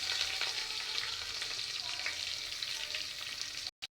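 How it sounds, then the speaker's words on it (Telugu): Chopped onion sizzles in hot oil already crackling with mustard seeds, cumin and curry leaves, a steady close frying hiss that runs on before cutting out abruptly near the end. "కొంచెం ఎర్రగడ్డ వేస్తున్నాను."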